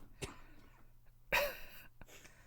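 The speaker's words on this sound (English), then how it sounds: "I have to clear my throat" A single person clears their throat with a short, rough burst, close and fairly loud, after a fainter throaty cough earlier and a brief click near the end, otherwise quiet.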